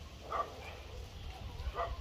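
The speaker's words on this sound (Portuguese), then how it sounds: "esses aí são os cachorros do seu Tom e do seu João" Dogs at a rural farm homestead give two short, distant barks about a second and a half apart over low background hum.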